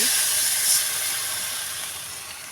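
Water poured into a frying pan of spices with ground cumin and coriander erupts into a loud, close steam hiss that slowly eases off, with no voices.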